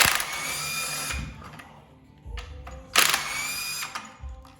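Bursts of an impact or power tool loosening a reverse-thread hub nut on a Harley Tri-Glide motorcycle in a garage, two or three loud rattling whirs separated by quieter pauses and clinks.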